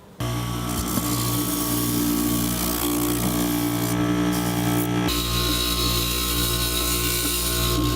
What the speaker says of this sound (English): We have a sander.